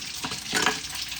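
Mustard seeds and fennel seeds tempering in hot oil for a Sri Lankan curry: a brief, close sizzle with a short burst of crackling and stirring, and no voices.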